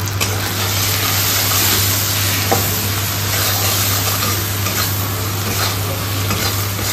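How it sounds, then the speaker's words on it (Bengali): Onion, ginger paste, chopped tomato, chilli and a fish-curry spice mix frying in a pan give a steady, loud sizzle with stirring scrapes, running continuously over a low constant hum. "পেঁয়াজ ভাজার পর এখানে আদা বাটা, টমেটো কুচি, লঙ্কা আর আমাদের একটা মাছের ঝোল বানানোর আলাদা মশলা আছে, সেই মশলাটা দিয়ে কষানো হবে"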